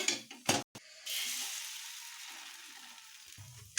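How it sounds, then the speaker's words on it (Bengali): A paratha for a veg roll fries in hot oil in a pan, giving a steady, close hiss of sizzling for a few seconds after a couple of brief knocks, with no talk. "এবার আমি তেল দিয়ে এটা ভেজে নেব এইভাবে করে আমি সব পরোটাগুলো ভেজে নেব"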